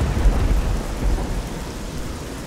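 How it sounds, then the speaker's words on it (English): Heavy rain pours in a video game while deep thunder rolls loud and close, a dense continuous roar with no voices. "The sky was pouring rain."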